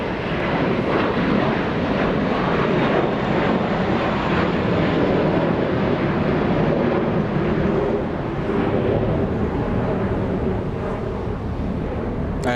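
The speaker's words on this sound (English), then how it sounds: "there's a Dreamliner landing in the north." A Boeing 787 Dreamliner comes in to land at Los Angeles International Airport, its engines giving a steady, loud roar that fills the whole stretch with no talk over it.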